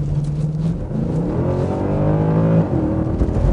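A Mercedes-Benz C63 AMG Coupe accelerates hard, its engine note climbing through rising revs with a brief shift dip, loud and close from the cabin, no talk.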